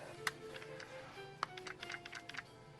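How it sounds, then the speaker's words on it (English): Loose ammunition rounds rattle inside an AK47 magazine with a DIY wobble fix, giving faint, scattered small clicks and ticks, a few sharper taps among them, with no speech. "The small noise, clicking noise you're hearing is the rounds"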